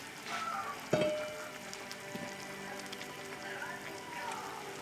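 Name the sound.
pot of pork hock and beans coming to a boil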